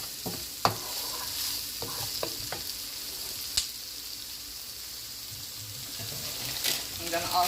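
Vegetable fried rice fries in a pan with a soft, steady sizzle, broken by sharp clicks and scrapes of stirring at close range.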